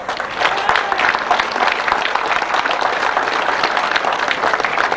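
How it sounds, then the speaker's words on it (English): Outdoor crowd applause at a 1998 grasstrack motorcycle racing meeting, a dense, even sustained clapping that holds steady at moderate distance, with faint voices mixed in. "a big round of applause for the Tunbridge Club"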